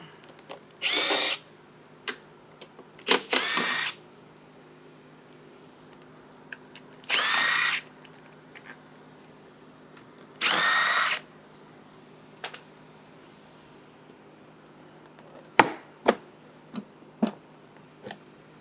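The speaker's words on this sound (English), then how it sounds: "to remove this side panel, we just simply remove 1, 2, 3, 4 fasteners. I'm going to use a 5mm Allen to do that" A power driver fitted with a 5mm Allen bit backs out four side-panel fasteners on an RX1E electric motorcycle, in several short close whirring bursts separated by quiet gaps, followed by light ticks and clicks, with no talking.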